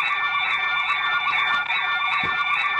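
A Commax hospital nurse call system sounds its emergency alarm, a loud, steady electronic tone with bright harmonics that holds continuously without a break, with no voices over it.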